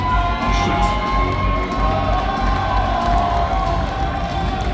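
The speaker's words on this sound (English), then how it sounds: "I think the crowd realizes how important this moment is for both sides. Sentinels fans start to make a little bit more noise as well." Sentinels fans cheer at the HCS Kansas City Major Halo esports event, a loud sustained arena crowd roar with shouts and whoops running steadily from start to finish.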